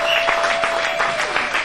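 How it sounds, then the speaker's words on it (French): A church congregation claps for the Lord, the broad clapping punctuated by several sharper, louder claps at irregular intervals, with a faint steady tone humming underneath. "Est-ce que vous pouvez applaudir le Seigneur?"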